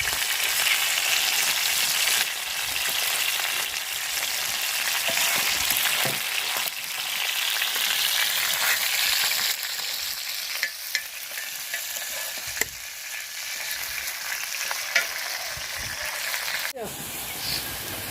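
A fish head fries lightly in a pan with a loud, continuous close-up sizzle, occasional clicks and scrapes of stirring cutting through the hiss.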